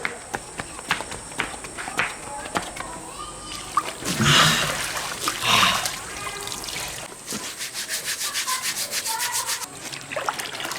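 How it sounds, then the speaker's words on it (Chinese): Steel wool scrubs the burnt skin of a large cow head, making harsh rasping strokes. Scattered scraping comes first, then a brief louder burst with splashing, followed by quick, even, rhythmic scouring close by. "接下来就是考验我钢丝球技术的时候了"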